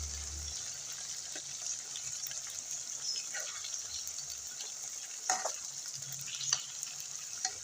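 Red chillies fry in a garlic chutney, a low steady sizzle and hiss with a few scattered stirring clicks and scrapes, faint and close with no talking.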